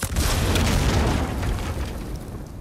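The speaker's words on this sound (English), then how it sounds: "Explosions." Rumbling video-game explosions roll out as a dense, booming low-end blast that swells loudly, then slowly decays over a couple of seconds with no talk.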